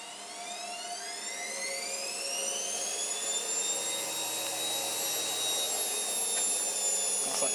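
A washing machine winds up into its final spin after a rapid 40 wash, a steady whine climbing in pitch over a low rumble and growing louder, with no talk.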